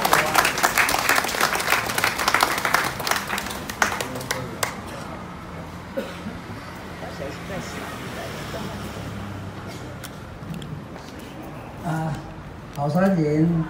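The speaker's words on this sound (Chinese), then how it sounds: "我们希望您多一点热情的掌声给他鼓励好吗？" Audience applause at a Changhua campaign rally greeting a former county magistrate, starting as dense loud clapping, then thinning to scattered claps under a host's amplified voice, with a brief louder burst of clapping near the end.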